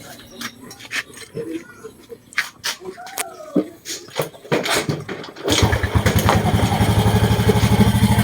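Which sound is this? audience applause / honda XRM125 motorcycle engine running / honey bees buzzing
honda XRM125 motorcycle engine running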